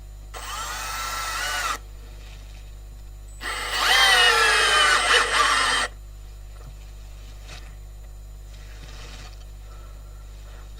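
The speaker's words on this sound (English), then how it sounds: "I'm just going to put in some extra screws and hopefully everything turns out well." A power drill drives screws into a large rotten wooden bowl in two whirring bursts, the second longer and louder, with a quieter low hum between them.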